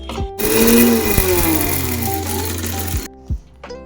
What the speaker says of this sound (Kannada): ಮೆಂತ್ಯ ಕಾಳು ಇದನ್ನು ಇದನ್ನೆಲ್ಲ ಎರಡೂ ಹಾಕಿ ದಪ್ಪ ದಪ್ಪಾಗಿ ಗ್ರೈಂಡ್ ಮಾಡ್ಕೋಬೇಕು